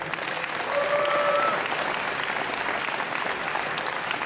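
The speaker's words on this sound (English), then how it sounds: "you guys deserve a round of applause for yourselves for being great fans" Wrestling fans applaud at the Scenic City Invitational, a dense, steady wash of clapping from a large crowd that swells slightly and then holds for several seconds without fading.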